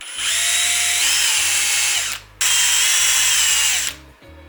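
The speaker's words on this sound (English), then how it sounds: "I can dispatch these using my trusty Azito drill." A power drill whines loudly at close range in two long bursts with a short pause between, its pitch shifting slightly as it bites into metal rivets.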